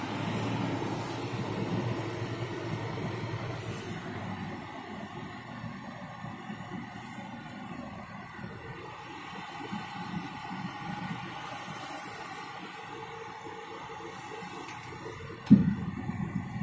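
A Mercedes-Benz Arocs 2545 4x4 truck pulls away off-road in crawler mode in first gear, giving a steady low diesel rumble heard from inside the cab, with a short sharp knock near the end.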